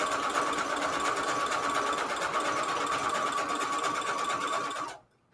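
A sewing machine runs a continuous zigzag stitch around a vellum pocket, a steady close whirring hum with rapid needle rhythm that stops abruptly near the end.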